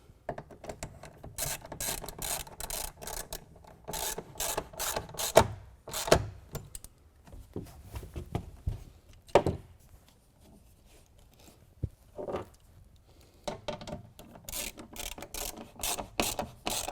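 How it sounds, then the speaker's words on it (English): A T30 driver tightens bolts into a tonneau cover bracket on a Honda Ridgeline truck bed, bursts of ratcheting clicks and metal scraping up close, separated by quiet pauses. "We're going to loosely install all three bolts and then tighten them down with the T30."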